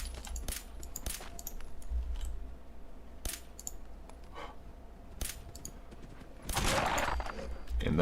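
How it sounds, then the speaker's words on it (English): Pistol shots fired at a mongrel dog in the Fallout 4 video game, several sharp separate cracks spaced irregularly over ambient game noise, with a louder burst near the end. "that's how you miss like every shot on a basic mongrel"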